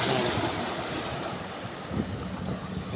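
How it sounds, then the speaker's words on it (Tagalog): Strong wind roars steadily against the microphone while fishing at Canyon Cove, a dense continuous rush with no voices. "Mahangin talaga ito."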